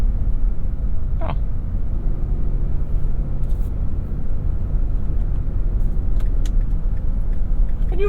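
A 2025 Nissan Frontier PRO-4X pickup drives while towing a bouncing trailer, giving a steady low road and engine rumble with faint rattles and light knocks on top, close and continuous throughout.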